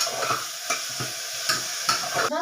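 Spices frying in a pan while being stirred, a soft continuous sizzle broken by regular scraping strokes of the spoon at about half-second intervals, close and with no talking.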